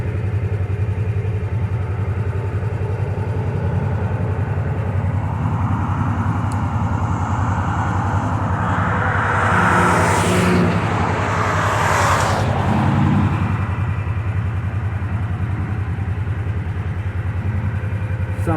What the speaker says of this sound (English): Not with all these cars here.